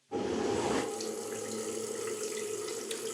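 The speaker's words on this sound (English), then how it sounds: "we cut to real time with the faucet and the water running" Water gushes from a faucet in the Cyberpunk 2077 game trailer, starting abruptly with a bright splash and settling into a steady, close running stream.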